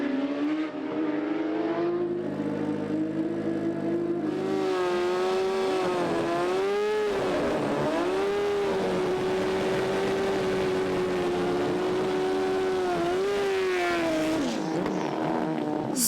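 Super street bikes launch hard off a drag racing start line at the FIM Euro Finals, loud high engine wails rising and wavering as they rev and pull away, with no speech.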